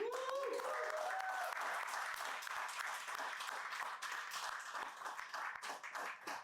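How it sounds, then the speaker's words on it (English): Audience applause at a Dubai real estate seminar, sustained clapping with individual sharp claps standing out, and brief talk at the start. "So, but again, round of applause."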